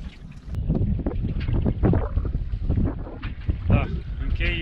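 Wind gusting at sea aboard a small fishing boat out after horse mackerel, a loud rushing buffet over the microphone with water slapping, while someone talks over it throughout.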